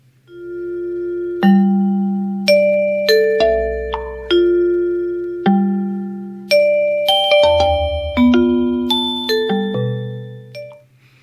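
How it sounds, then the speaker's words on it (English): Bell-like chime tones from the video game Electroplankton, sounding as little red fruits bounce off foliage, a clear sequence of bright, resonant pitched notes in irregular rhythm, each ringing and decaying, loud and alone. "altering the trajectory of little red fruits that emit bell-like tones as they bounce off the foliage"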